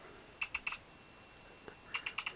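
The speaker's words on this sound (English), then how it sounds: "And then hit end escape a couple of times to get out of there" Keys pressed on the keypad of an SRX800 manual datalogger, two quick bursts of three or four crisp clicks each, close and clear against a quiet background.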